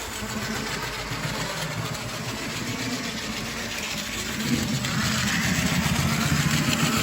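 An old all-metal Mantua steam model locomotive's electric motor runs in a steady, loud mechanical whir with a dry, unoiled edge, and it gets slightly louder toward the end.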